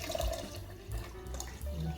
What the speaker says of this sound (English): 3 cups of cold water going in first